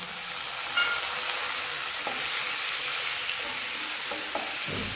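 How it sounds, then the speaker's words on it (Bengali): Onion, garlic, ginger and green chilli paste fries steadily in a pan for a Bengali palak matar dish, a close, even sizzle with a few soft stirring clicks and scrapes. "এই মশলাটাকে আমি ভালো করে কষিয়ে নেব।"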